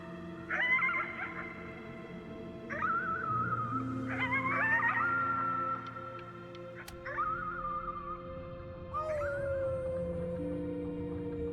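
In the video game Before Your Eyes, a long drawn-out howl at the moon rises and falls in several wavering, mournful notes over a soft sustained musical backdrop.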